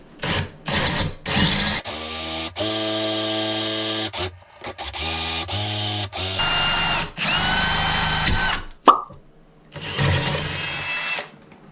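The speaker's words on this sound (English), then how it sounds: "It didn't take too long to drill the hole, and it's actually given us a nice clean hole." A power drill bores through porcelain tile in repeated bursts, its whine starting and stopping, with short pauses between runs and a sharp knock near the end.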